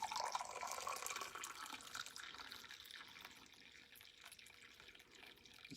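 Water poured into a small coffee mug to preheat and rinse it, a bright trickling pour that starts strong and tapers into a softer, thinner stream, close and alone.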